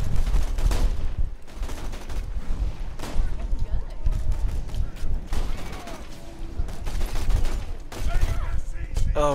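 Rapid gunfire from a weapon in Borderlands 2, loud and dense bursts running through most of the stretch, with a player's voice and game effects mixed in.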